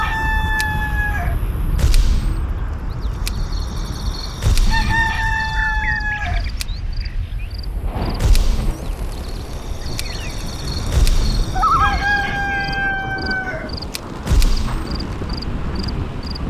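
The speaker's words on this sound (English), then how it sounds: "Roosters always crow when the sun comes up." Repeated rooster crows from the PC god game Black & White 2, three long cock-a-doodle-doo calls spread across the stretch, fairly loud over a busy ambient bed with insect chirps and clucking fowl.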